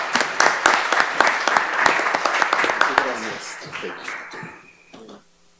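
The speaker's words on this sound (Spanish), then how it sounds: "Démosle un fuerte aplauso" Audience applause for a doctor introduced at a clinical molecular research lecture: dense clapping that is loud at first, then thins into scattered claps and dies away over about five seconds.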